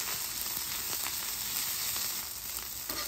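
Garlic fried rice sizzles steadily on a hot griddle, a continuous close crackling hiss with small pops scattered throughout and no voices.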